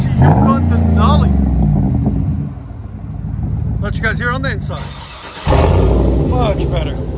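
Engine of a GMC Yukon Denali heard from inside the cabin: a steady low rumble that rises and dips, with voices talking over it.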